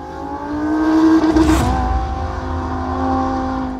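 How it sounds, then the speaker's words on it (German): Audi R8 V10 Plus sports car with its 610 hp V10 engine accelerating hard, a rising, close, loud roar that swells and sweeps past before settling into a sustained drone. "Der neue R8 kommt in seiner stärksten Version, dem V10 Plus, mit richtig Dampf unter der Haube daher."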